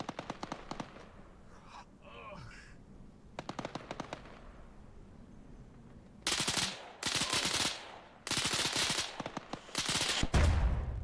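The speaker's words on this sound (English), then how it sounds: "50 cal MG." Heavy 50 cal machine gun fire in a video game, with short rattling bursts early on giving way to loud, sustained volleys in the second half.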